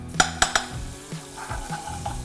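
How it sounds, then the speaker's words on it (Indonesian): Butter drops into a hot pot with three sharp sizzling spits in quick succession, then settles into a quieter crackle with a few softer pops and metallic clinks close by. "jadi pertama-tama kita tuang butter"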